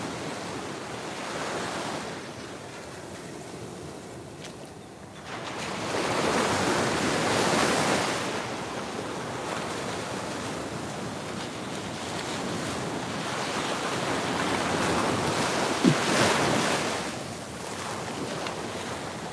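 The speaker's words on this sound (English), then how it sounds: "There is nothing like the sound of the ocean." Ocean waves break on a beach at sunrise, each surge swelling and receding in slow cycles of broad, washing roar, with steady wind noise and no voices.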